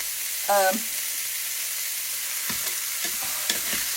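Teriyaki ribs searing in a hot pan give a steady, bright, close sizzle throughout, with a brief voice near the start and a few soft clatters.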